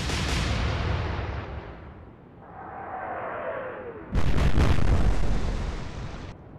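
Battleship main guns firing in a naval combat game set in the Atlantic, a heavy booming blast with a rumbling tail, then a second loud, sharp salvo that rolls on for a couple of seconds.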